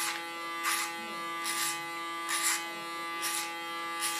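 Electric hair clipper shaving hair on the sides of the head, a steady motor hum with five regular bright buzzing bursts as it passes against the grain, close and moderately quiet, no talking.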